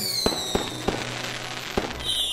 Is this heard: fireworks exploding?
yes